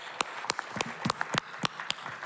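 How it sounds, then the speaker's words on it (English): Sparse, scattered hand claps from a small group, irregular and close, a dozen or so distinct slaps over a couple of seconds. "How about a round of applause for a guy that really did it?"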